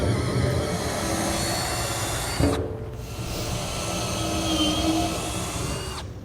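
A drill with a 25/64 bit enlarges a hole in the bed of a 2008 Ford F-450 Super Duty truck, a steady high whine running several seconds, briefly stopping, then resuming close and loud.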